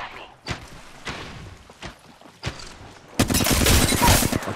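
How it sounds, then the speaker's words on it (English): Gunfire in the video game Apex Legends: a few isolated heavy shots, then a dense, loud sustained burst of rapid fire filling the last second and a half, with some faint background noise between shots. "shooting at me."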